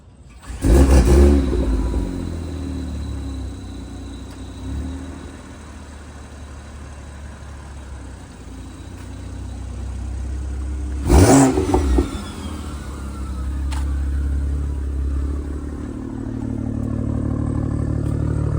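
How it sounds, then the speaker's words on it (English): A tuned BMW X3 M40 engine cold-starts with a sharp loud burst, settles into a steady idle, then gives a second hard rev before humming on close by, with no talking. "Get them a cold start."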